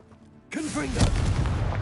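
The Confringo explosion spell from Hogwarts Legacy bursts out suddenly after a quiet lead-in, a loud booming blast followed by crackling, rumbling debris that carries on to the end.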